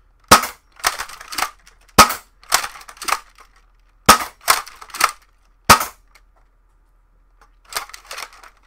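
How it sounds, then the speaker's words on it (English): A Dart Zone Pro mk 1.1 foam dart blaster fires full-length darts in sharp, close snaps, each followed by a short rattle, spaced unevenly across several seconds with quieter mechanical clatter at the end. "So, five shots, full length darts."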